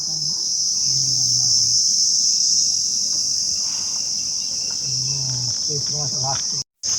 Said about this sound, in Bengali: চারিদিকে শুধু ঝিঝি পোকার ডাক।